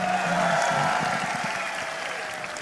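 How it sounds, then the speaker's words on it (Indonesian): Crowd applause welcoming Anies Baswedan at a gathering in Pekanbaru, continuous and fairly loud, with murmuring voices and low background sounds underneath. "boleh dong kita semua berikan tepuk tangan"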